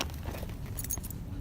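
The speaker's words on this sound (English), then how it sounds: "You can probably hear, like, little jingles in the background." Faint, light metallic jingling in brief bursts, like tags on a dog collar, under a low background hum.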